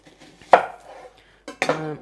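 A knife cuts through red onion on a board, two sharp chopping knocks about a second apart, close and clear with a brief ring after each, no talk.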